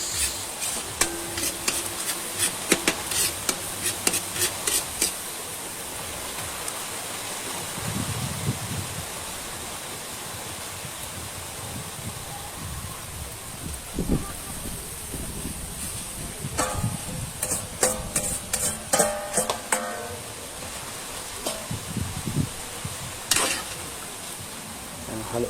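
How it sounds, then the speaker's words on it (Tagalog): Sliced beef lung for bopis stirred in a hot pan, steady sizzling broken by bursts of scraping and clattering strokes, fairly close, with no talking. "Halo-haloin lang natin mga lodi ang ating bupis."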